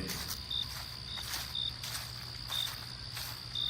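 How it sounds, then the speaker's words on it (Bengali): Crickets chirp steadily on a forest path in the countryside near a riverbank at dusk, a dense high trill with short brighter bursts repeating every half second or so, with faint footsteps underneath and no voices. "চারিদিকের ঝিঝি পোকার ডাক"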